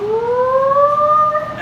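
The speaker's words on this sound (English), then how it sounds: "the sirens started going off" A rising, wailing outdoor warning siren in Kansas sounds steadily and loudly, its pitch slowly climbing, with no voices.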